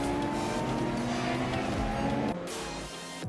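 Race cars in a racing video game, among them an 8-liter Viper V10, roar loudly with a steady engine drone for most of the moment before the sound drops off toward the end.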